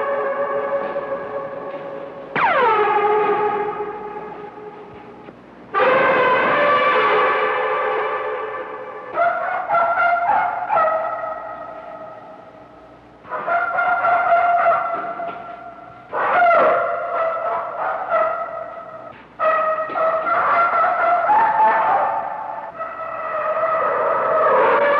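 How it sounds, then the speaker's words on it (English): Elephants trumpet repeatedly inside a building, a series of loud, brassy blasts with sliding pitch, each ringing with echo off the interior walls, some sharp and sudden like shots. "When the elephants are exercised indoors, their voices echo throughout the building."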